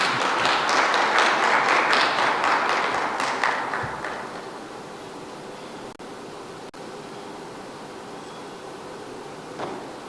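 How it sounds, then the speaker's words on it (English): Audience applause at an event honouring a senior presidential advisor: dense, loud clapping from a crowd for about four seconds, then tapering off into a quieter room hum. "A big hand clap for the Honorable."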